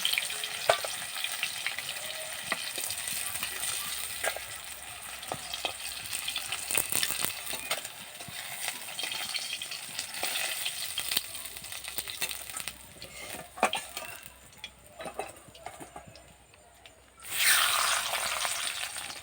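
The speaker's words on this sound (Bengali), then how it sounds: "মাছটা ভাজা হয়ে গেছে, এবার এটা আমি নিয়ে নেব।" Rohu fish frying in oil, continuous soft sizzling with scattered clinks and scrapes of stirring, then a louder sizzling surge near the end.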